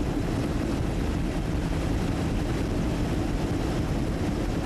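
A captured Mi-24 Hind assault helicopter from the Persian Gulf War, flying low and fast, gives a steady, loud broadband roar of engine and rotor noise. The roar holds without a break through the whole stretch, and no one speaks.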